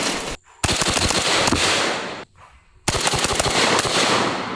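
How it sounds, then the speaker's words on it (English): A Jerry Miculek 940 Pro semi-auto shotgun fires low brass birdshot in two very rapid strings of loud, close, sharp blasts, separated by a brief pause, with no talking. "that's probably the fastest I've ever shot a semi-auto shotgun before"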